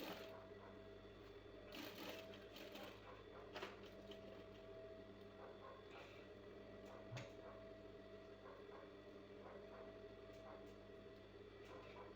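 A sewing machine stitching baby frock fabric runs in steady bursts of rapid mechanical clatter, with short pauses and small clicks between runs, close and fairly quiet, with no talking.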